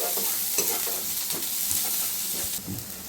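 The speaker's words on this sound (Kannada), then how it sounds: "ಫಸ್ಟು ಈರುಳ್ಳಿನ ಹಿಂಗೆ ಕ್ಲೀನಾಗಿ ಫ್ರೈ ಮಾಡ್ಕೊಬೇಕು ಗೈಸ್." Chopped onions deep frying in oil in a pan on a stovetop, a constant bright sizzle with stirring scrapes and bubbling pops, close and steady with no talking.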